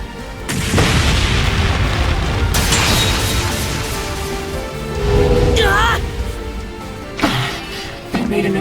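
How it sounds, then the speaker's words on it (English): A loud, sustained roar and boom from an improvised flashbang in a video game cutscene, filling the scene with dense rumbling noise, followed by a rising whine and a few sharp bursts. "They made an impromptu flashbang."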